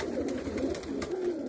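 A pigeon cooing close by, a soft low warbling coo repeated in a short rolling rhythm over a quiet background.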